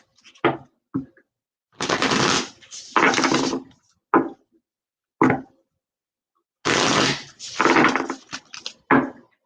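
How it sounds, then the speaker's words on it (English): A deck of reading cards is shuffled, giving several loud, close riffling bursts of a second or two each, separated by brief pauses and a few single snaps. "Just a couple more shuffles here."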